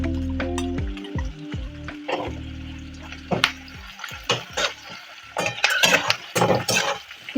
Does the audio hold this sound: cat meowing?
no